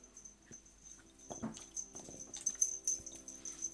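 A dog, a female puppy, whimpers and wheezes in short, breathy bursts at close range, growing more frequent toward the end over a faint steady high-pitched hum.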